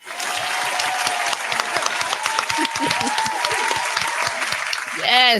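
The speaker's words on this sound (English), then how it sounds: "I'm going to clap for you" An audience claps steadily for a guest on a talk show, the applause continuous and close, with a voice speaking over it briefly near the end.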